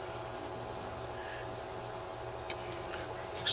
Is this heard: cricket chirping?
yes